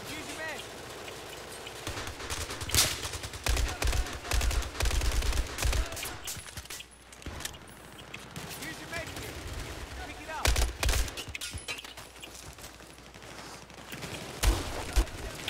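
Battlefield 4 gunfire: rapid bursts of automatic rifle shots and scattered single cracks over constant battle noise, with someone talking over the fighting.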